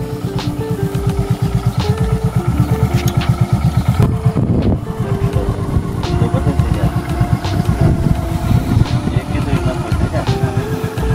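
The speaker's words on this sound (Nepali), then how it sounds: "आज चाहिँ हाम्रो साथी विजय कुमारले यो बाइक सिक्दैछन् है" A learner rides a motorbike, its engine droning steadily and close throughout, with faint voices in the background.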